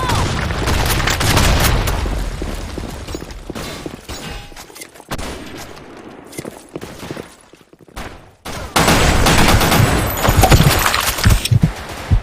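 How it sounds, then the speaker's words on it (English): Grenade explosions and gunfire in the Sand Storm II map of a shooter video game, loud booms and bursts of rapid fire that cut out briefly before another heavy blast. "Grenade! Fire in the hole!"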